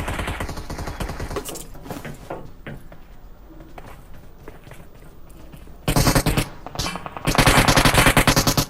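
Gunfire in a PUBG Mobile gunfight: rapid automatic bursts, heavy at first, fading to quieter scattered shots, then two loud close sustained volleys near the end, with no voices.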